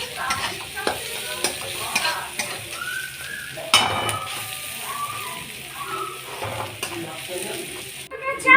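Chowmein noodles fry in a pan alongside a pot where they were boiled, with a steady close sizzle broken by clinks of a utensil and scraping.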